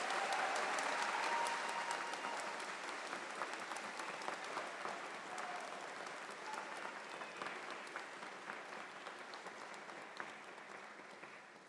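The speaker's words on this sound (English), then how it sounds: "Let's give these students a round of applause." A crowd at a nursing pinning ceremony applauds steadily for about twelve seconds, dense clapping that slowly fades toward the end.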